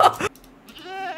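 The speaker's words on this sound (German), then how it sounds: "Seit wann gibt's hier Ziegen?" Goat bleating in Minecraft, a single wavering, nasal bleat rising after a brief burst of louder sound at the start, fairly close and alone with no talk over it.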